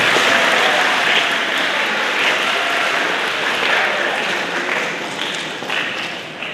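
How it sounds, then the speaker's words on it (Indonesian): An audience at a school farewell ceremony for a teacher claps in a dense, steady roar of applause that holds throughout and eases slightly toward the end, with faint voices beneath. "Tepuk tangan untuk beliau"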